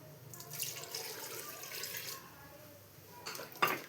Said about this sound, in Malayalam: ഇതിലേക്ക് ഇനി 2 ഗ്ലാസ് വെള്ളം കൂടെ ചേർത്ത് കൊടുക്കുകയാണ്.